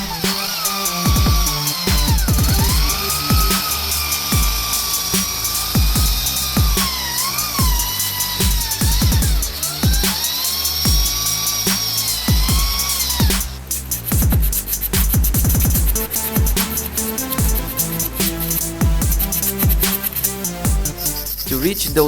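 A power tool runs continuously while sanding old paint from a wheel rim, a steady high-pitched whine with shifting pitch and rattling, buzzing texture throughout, loud and close, changing tone partway through.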